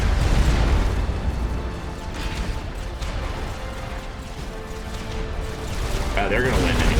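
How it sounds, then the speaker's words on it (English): Artillery shelling in the real-time strategy game Supreme Commander: continuous booming blasts and rumbling explosions keep peppering the scene at close range, with a voice talking over the din. "Just because I had a few artillery just constantly peppering these guys."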